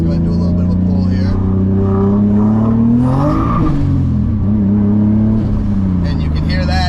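A 560whp turbocharged BMW E34 pulls hard, its engine note rising loudly and close, with a shift and further climb as the tires spin; wind and cabin noise surround it.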